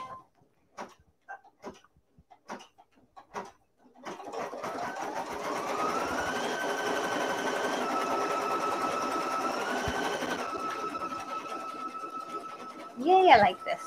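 A home embroidery machine stitches a Christmas tree cake earring design, running steadily for about nine seconds with a rapid, even mechanical chatter after some faint clicks. A voice speaks briefly near the end.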